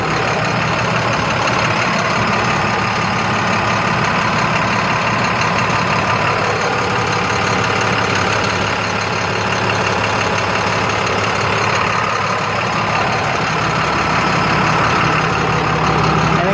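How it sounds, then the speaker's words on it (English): A truck's engine idles steadily and loudly throughout, a constant low rumble with no change in speed and no speech over it. "I'll show you what it looks like again while the truck's running here"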